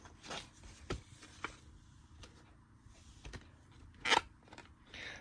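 A plastic VHS clamshell case is handled, giving scattered clicks, taps and crackles of varying loudness, with one sharp louder snap near the end; quiet and close.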